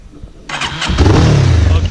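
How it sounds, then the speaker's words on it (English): A motorcycle with a hole in its exhaust pipe starts up close by, jumping from near silence to a loud, rough, sputtering engine note that holds for a second or so. "the exhaust pipe now has a hole where there isn't one supposed to be."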